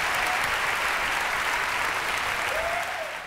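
Loud, dense applause after a concert fills the whole stretch, a steady wash of many hands clapping that eases slightly at the very end, with no voices.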